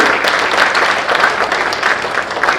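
Audience applause at a Hindi poetry gathering (kavi sammelan) in Lucknow, a loud, continuous wash of many clapping hands without pause.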